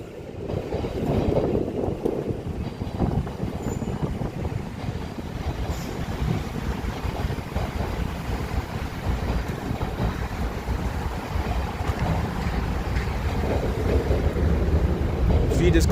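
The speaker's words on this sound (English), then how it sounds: "The wind is blowing heavy over here," Heavy wind roars steadily against the microphone outdoors, a continuous low rumbling buffet that stays loud for the whole stretch with no clear break.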